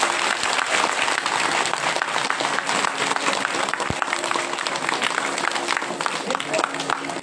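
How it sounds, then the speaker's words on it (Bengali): A crowd of women clapping together in devotion to Govinda at a Rash festival gathering, dense and steady applause that carries on without a break, close and loud throughout, with scattered voices under it. "মায়েরা আগে গোবিন্দের উদ্দেশ্যে করতালি দেন, সবাই একসাথে"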